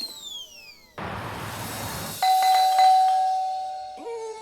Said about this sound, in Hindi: फिर से घंटी बजा के भाग गए तुम लोग?